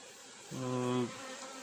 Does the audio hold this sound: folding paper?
no